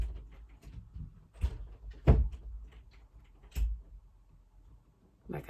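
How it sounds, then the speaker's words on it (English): An indoor house door closes with a few soft, separate thuds and clicks spread across several seconds, heard close in a quiet room with faint voices in between. "Close my door, please."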